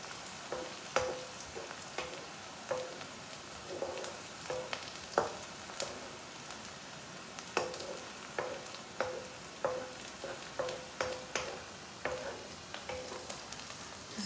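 Chopped onions sizzle and fry steadily in a hot pan, with a continuous close crackle broken by regular light clinks and scrapes of a stirring spoon and no talk over it.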